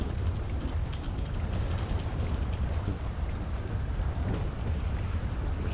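Steady heavy rain patters on surfaces in a video game storm, with low rumbling thunder underneath, continuous and enveloping, no talking.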